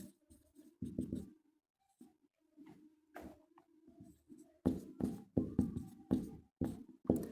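Chalk or marker strokes on a classroom board, a run of short scratchy taps and scrapes, the final seconds brisk and fairly close, no voice heard.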